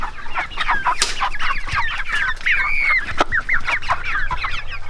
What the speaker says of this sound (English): I am thrilled that this one chicken is so much... is a beautiful chicken.